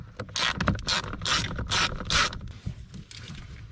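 A ratchet wrench loosening 8 mm bolts on a Jeep JK blower fan: rapid, close clicking in repeated bursts with brief pauses between strokes.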